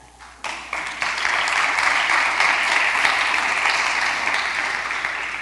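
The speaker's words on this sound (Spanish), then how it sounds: "Aplauda al Señor." Steady applause from a church congregation, building quickly after a brief start and holding at a full, even level before easing slightly.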